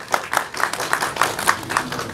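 A live audience claps at a song release event to honour the producer, with sparse, uneven hand claps spread across the moment at moderate loudness with no talk over them.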